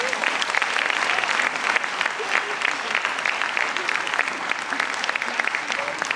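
An audience at a Christmas concert given by a wind orchestra and majorettes in Nová Dubnica applauds steadily, a dense, continuous clapping from many hands filling the hall.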